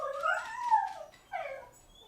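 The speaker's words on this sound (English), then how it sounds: "I apologize for the dog going crazy in the background" A dog whines and yelps in two short, high bursts, the first drawn out and wavering, the second briefer, heard alone at moderate distance in a quiet room.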